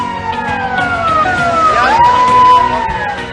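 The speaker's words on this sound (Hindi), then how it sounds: "सुबह 11 और शाम 7 बजे सायरन बजाया गया।" A loud civil siren wails nearby in Bhopal, its pitch gliding down and then back up in a steady sweep, sounded for a public awareness campaign.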